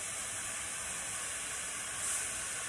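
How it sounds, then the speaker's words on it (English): A steady, soft hissing sizzle of daikon cooking in a hot skillet, continuous and fairly quiet with no talking. "Hear that sizzle?"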